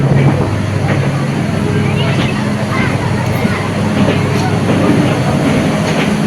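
A train rumbles steadily at Rajshahi station, with a continuous low drone, faint clatter, and a murmur of people talking around it.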